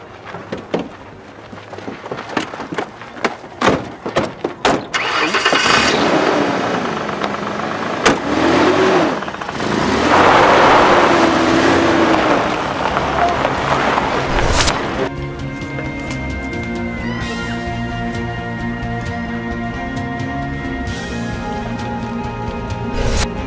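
A car engine cranks and catches, revving loudly and roaring steadily before settling into a running drone as the vehicle pulls away, with clunks and door-like knocks early on.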